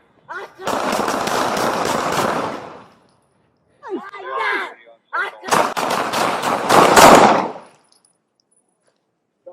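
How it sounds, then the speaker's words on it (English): Police fire guns during an incident at an airport: a rapid volley of loud, close cracks, then a brief pause with a short burst, and a second long barrage of shots. "County shots fired."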